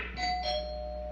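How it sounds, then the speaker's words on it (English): A doorbell rings once with a clear two-tone ding-dong, and its bright tone lingers and fades against a quiet background. "Ring the bell."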